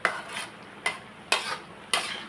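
Beef and holy basil stir-frying in a pan, with four sharp metallic scrapes of a utensil against the pan spaced irregularly over a soft background hiss, close and fairly quiet.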